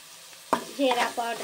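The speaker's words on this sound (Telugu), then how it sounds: "కొంచెం కొత్తిమీర, కొంచెం కరివేపాకు వేసుకుని ఇలాగా కొంచెం రెడ్ కలర్గా వేగాలండి" Coriander and curry leaves frying in a pan for a sweet corn samosa filling, with a sudden sizzle and stirring that continues in bursts, close and fairly loud, no talk.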